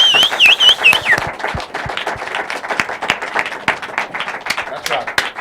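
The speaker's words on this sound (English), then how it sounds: "Clap for these guys. Give them a hand." A crowd at a live business event claps and applauds with dense, irregular hand claps and some cheering, while a voice talks over the ovation near the start.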